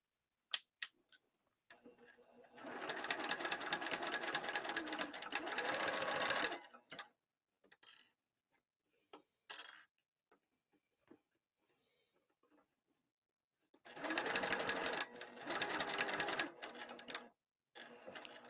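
Sewing machine stitching a fabric lining: two long bursts of rapid mechanical stitching separated by pauses filled with short clicks and taps as the presser foot is lifted and the fabric pivoted.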